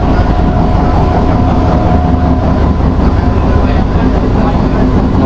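An AC local train in Kolkata runs on the Sealdah to Ranaghat line, heard from inside as a loud, steady rumble and rattle that fills the whole stretch without a break.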